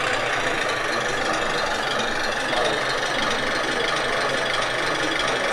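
A 1:32 scale Klv 12 model railcar, shown at the Spur 1 model railway days in 2022, runs its small engine with a steady, busy whirring hum that stays even and close throughout, with no talking.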